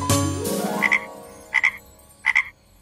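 Cartoon frogs croak in three short bursts, each a quick doubled croak, spaced about a second apart after a swelling musical tone fades. The sound comes from a children's counting song about frogs jumping.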